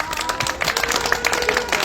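A crowd at an outdoor candlelight rally claps steadily throughout, a dense sustained patter of many hands at close to moderate distance.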